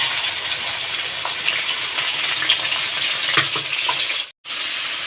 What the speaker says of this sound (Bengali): ওর মধ্যে দিয়ে দিলাম এই যে গোটা দারচিনি আমি ফোড়নে দিলাম, আর দেবো এই যে জিরে, শুকনো লঙ্কা আর আদা পেস্ট